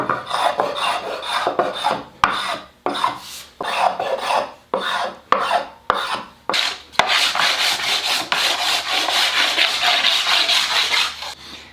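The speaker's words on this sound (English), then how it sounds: "I need to scrape both sides of this to make sure I've exposed fresh wood" A wooden guitar body is scraped by hand to expose fresh wood, with loud close rasping strokes in a rhythmic series, each one separated by short pauses, and then a denser run of continuous scraping.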